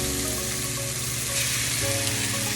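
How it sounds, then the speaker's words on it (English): Beef pieces for beef and broccoli sizzle steadily in hot oil, a dense continuous frying hiss that stays loud and even throughout with no voices. "all we're gonna do now is drop these bad boys in the oil. We need to saute them till they're done"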